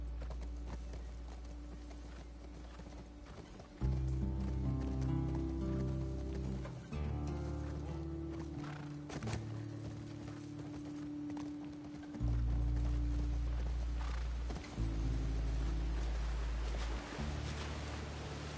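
Horse hooves clip-clopping at a gallop in The Last of Us Part II video game, a steady repeated rhythm over game music with swelling tones, close and fairly loud, alone without talk.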